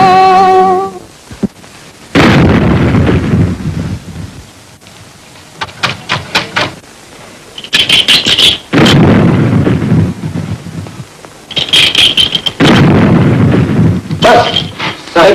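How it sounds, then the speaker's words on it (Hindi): Cannon fire in a period film setting, heavy booming blasts and rumbling bursts recurring in loud clusters with gaps between them, with some sharp crackling reports. "तोपें तो कोसों दूर चल रही हैं। लेकिन आवाजें तो आ रही हैं।"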